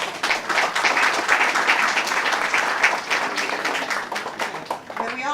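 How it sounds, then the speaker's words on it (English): Crowd giving a round of applause at a grand opening ceremony, brisk overlapping clapping with some individual claps standing out, fairly close and loud throughout, and a voice beginning to speak at the very end. "may we have a round of applause for all these people?"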